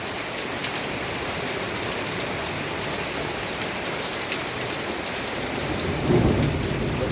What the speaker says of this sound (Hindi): पहली बारिश जेड़ी आ गई है